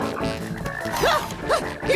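Cartoon toad croaking in a silly, exaggerated way, a few bouncy gulping croaks arriving in quick succession over busy background music, loud and close.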